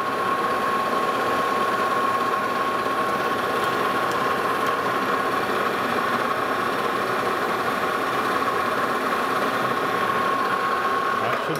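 A metal lathe breaks the corners of a custom mandrel made to hold a broken gear, giving a loud, continuous motor drone with a thin steady whine that holds unchanged throughout.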